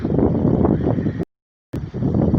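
Seaside wind at Konyaaltı beach in Antalya, a steady loud broadband rush buffeting the microphone, cut by a brief dropout of silence midway before the gusting resumes.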